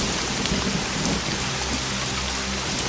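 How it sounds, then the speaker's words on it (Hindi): Light rain falls in a steady, dense hiss, with a soft low rumble running underneath throughout. "बारिश की हल्की बूंदें गिर रही हैं"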